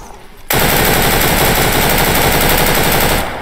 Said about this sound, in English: I'm gonna shoot back.